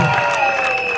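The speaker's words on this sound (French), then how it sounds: "Tous ensemble, nous allons crier, applaudir cette association pour le mariage, s'il vous plaît." Brief burst of clapping from a crowd at a customary wedding, close and fairly loud, with a voice speaking over it.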